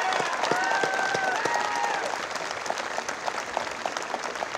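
Crowd at a Veterans' Day parade in Brockton applauding Vietnam veterans, sustained clapping with a few cheers and whistles over an outdoor bustle, fairly loud and continuous.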